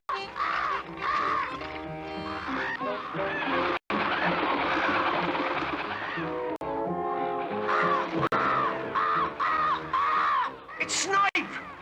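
Cartoon birds caw in a 1972 animated Oliver and the Artful Dodger film, harsh repeated squawking calls layered over dense music, loud and continuous with brief gaps.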